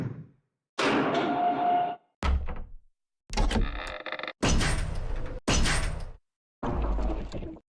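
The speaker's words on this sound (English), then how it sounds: "when the switch triggers, the player will hear, wherever they are over here, they will hear that stone movement" RPG Maker stone block door sound effects: a series of separate heavy thunks and grinding scrapes of stone shifting, each burst loud and abrupt, divided by short silences.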